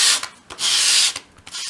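Sandpaper rubs a bevel onto a small wooden piece for a 1/12 scale dolls house desk, heard as close, loud rasping strokes in several bursts, one long stroke in the middle, with short pauses between.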